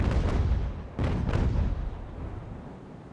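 Naval cannon broadsides from an age-of-sail warship battle in the game Ultimate Admiral: Age of Sail, with two or three heavy booms in quick succession that fade into a low rumbling tail.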